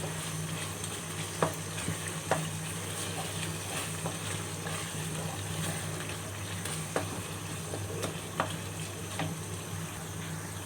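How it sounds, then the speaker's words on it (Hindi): Tomatoes fry in a pan with a steady soft sizzle while a utensil stirs them, giving occasional scraping clicks against the metal; the sound is quiet and close, with no talking. "टमाटरों की जो है सही से भुनाई हो रही है।"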